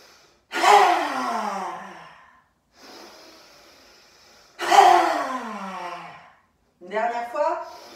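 Two long, forceful breaths during a yoga session, each a loud rushing exhale trailing off, with quieter breathing between them and a short, broken breath at the end.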